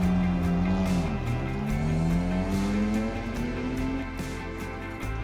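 The vintage race car Joker climbs the Prescott hill climb course, its engine loud and close with rising revs through the gears as it passes, fading slightly toward the end.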